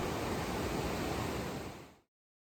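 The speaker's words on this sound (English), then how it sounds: "There are plenty of water features along the trail, from views of the gushing Whitewater Creek" Whitewater Creek gushes along the trail to Bassi Falls, a dense, steady roar of rushing water heard close and alone before it cuts off abruptly.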